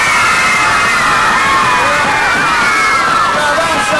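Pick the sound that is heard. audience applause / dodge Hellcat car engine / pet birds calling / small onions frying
audience applause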